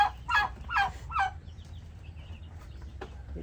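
Three clucking calls from chickens on a poultry farm, close and distinct, followed by faint chick peeps and quiet farm background.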